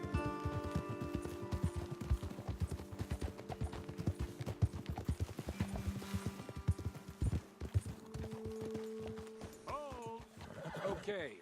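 Horse hooves clip-clop in fast, uneven rhythm while riding in the video game Red Dead Redemption 2, loud and close, with occasional whinnies and snorts and brief talk mixed in toward the end.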